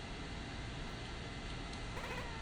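Cat character meowing in the video game Momodora: Reverie, heard as a brief meow over a steady, dense game background that continues throughout.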